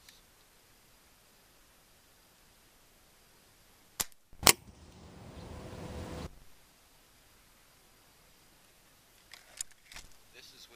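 A Black Ops pellet rifle fires a single sharp, loud report after a faint click, followed by a brief rushing hiss, then quiet with a few light handling clicks.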